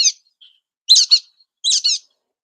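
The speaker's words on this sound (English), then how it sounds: "That is indeed the brown-headed nuthatch" Recorded calls of a brown-headed nuthatch: sharp, squeaky two-note chirps that come in three short bursts separated by gaps of silence, close and clear with no background.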